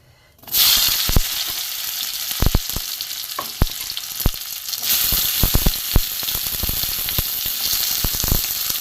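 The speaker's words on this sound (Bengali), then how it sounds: "কাঁকরোলগুলো আমি প্রথমে ভেজে নেব" Sliced teasel gourd hits hot oil in a wok and sizzles steadily, loud and close, with scattered sharp crackles and spatters punctuating the continuous frying hiss.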